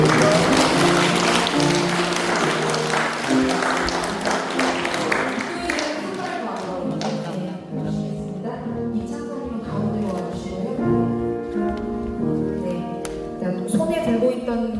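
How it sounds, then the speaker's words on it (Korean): Audience clapping at a Won Buddhist initiation ceremony at Wonnam temple fills the room for several seconds, then thins out and gives way to tonal sounds and voices. "큰 박수 부탁드립니다"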